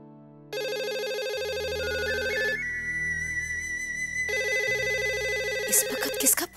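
A telephone ringtone plays loud and steady in a domestic drama scene, an electronic melodic tone with sustained notes that shifts pitch midway, then cuts off abruptly after about six seconds.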